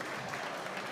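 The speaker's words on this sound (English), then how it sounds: "Crowd on their feet gives both teams a standing ovation." A basketball crowd at an all-star classic in Hoosier Gym rises to its feet in a standing ovation, giving off dense, loud, continuous applause with no break.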